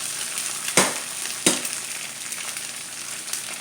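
Eggs fry in a hot pan with a continuous bright hiss, two sharp crackles near the start, then an even sizzle throughout.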